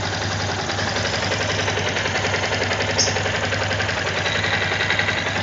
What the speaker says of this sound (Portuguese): se o barulho da Tenere 2250 é assim mesmo, com esse barulhinho chato, parecendo um motorzinho